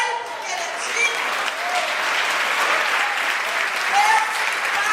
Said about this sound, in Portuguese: Aplauda ele, porque ele é digno.